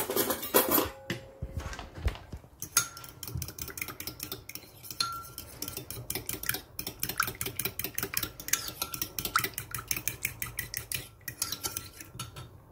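A spoon or whisk clinks and scrapes rapidly against a bowl while an egg yolk and cream mixture for veal blanquette is stirred, a busy close-up rhythm of metallic taps with no talking.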